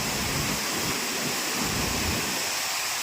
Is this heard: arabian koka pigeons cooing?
no